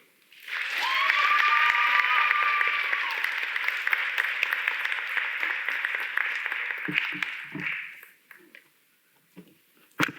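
An audience at a college event applauds to welcome a speaker to the stage, a full, steady round of clapping that holds for several seconds before fading out, followed by a few scattered sounds.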